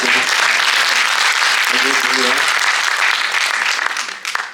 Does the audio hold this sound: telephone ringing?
no